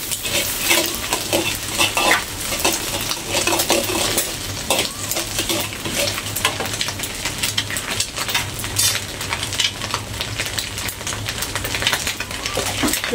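Garlic cloves and green beans with egg fry in a pan, giving a steady sizzle with bursts of stirring and utensil scrapes throughout, close and fairly loud, with no talking.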